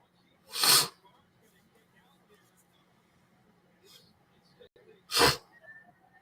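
Two sharp, loud sniffs or snorts from a person with a cold, spaced a few seconds apart, with faint breathing and quiet room noise between them.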